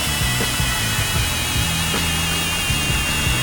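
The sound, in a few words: cordless 12V brushless drill running in drill mode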